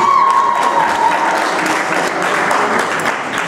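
Supporters clap and cheer for junior Latin dance couple number 14 at a dance league competition in Týnec nad Sázavou, a loud sustained wash of applause from a hall crowd with a whistle cutting through early on.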